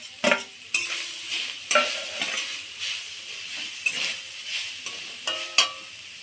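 Grated coconut is stirred in a wok over a wood-fired clay stove, with repeated scraping strokes of a spoon against metal over a soft sizzle.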